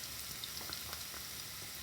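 Garlic and onions frying in oil give a soft, steady sizzle with faint crackles, quiet and close, without any talking.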